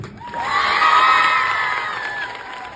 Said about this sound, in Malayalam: ഒരു കയ്യടി ഫോർ പ്രീതി